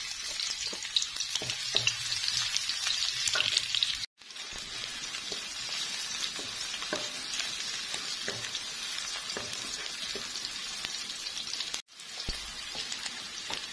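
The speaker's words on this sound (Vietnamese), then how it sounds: "Mình sẽ cho một ít dầu ăn vào chảo nha. Mình dùng phân nửa hành tím để mình phi cho nó vàng thơm." Shallots frying in cooking oil in a pan, a dense steady sizzle with faint crackles that runs continuously and cuts off briefly twice.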